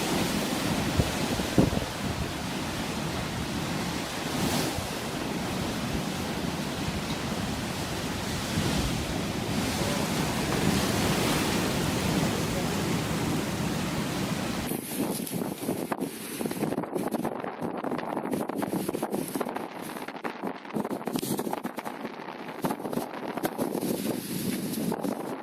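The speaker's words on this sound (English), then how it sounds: "A pier in North Yorkshire gets overwhelmed by the dominant sea." Rough sea waves crash over a pier in North Yorkshire, a loud continuous roar of surf and spray with heavy wind buffeting the microphone, then a harsher gusty stretch in the later part.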